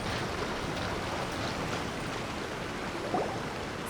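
Steady rushing water from a waterfall in the game Genshin Impact, a constant even roar with no change in loudness and no voices.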